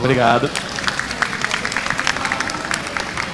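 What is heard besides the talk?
audience applause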